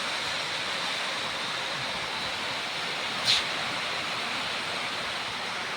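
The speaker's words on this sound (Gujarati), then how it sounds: "વરસાદ બહુ આવવા માંડ્યો છે" Heavy rain pouring down steadily at a farm house, a dense, even hiss that stays loud and unbroken throughout, with one brief sharper splash partway through.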